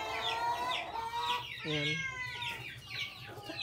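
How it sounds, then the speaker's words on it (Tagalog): Several Brahma chickens cluck and squawk close by in quick overlapping calls, with a brief word spoken over them. "mga manok nating Brahma"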